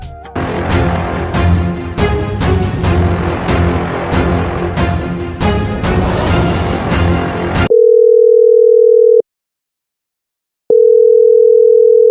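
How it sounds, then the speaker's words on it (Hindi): Telephone call tones: a steady electronic tone sounds alone in two long, loud, even bursts separated by a pause, after a stretch of busy background music. "तो चलिए फ़ोन करते हैं।"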